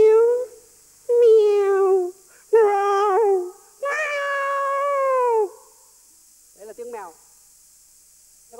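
A voice imitates a cat with a string of separate meows, first ordinary and then angry and drawn-out. A brief sharp hiss-like yowl follows near the end, with silent gaps between the calls.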